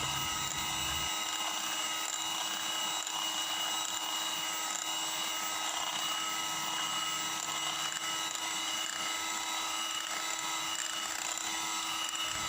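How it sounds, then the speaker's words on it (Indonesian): An electric mixer at medium speed beats red velvet cake batter in a continuous steady whir with a faint whine, holding one level throughout with no talk. "kita mixer menggunakan kecepatan yang sedang"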